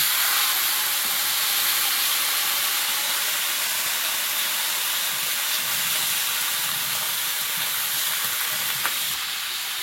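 Pumpkin dropped into hot oil with cumin seeds and bay leaf, giving a loud, dense, continuous sizzle and hiss close to the pan, with no speech.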